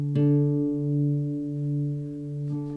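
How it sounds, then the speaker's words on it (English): Two guitar strings, one fretted and one open, ring together while being tuned by ear. One steady sustained pluck carries through most of the passage, and a second pluck near the end restarts the tone, close and clean. "We'll play them against each other and then change the open string to match the fretted one."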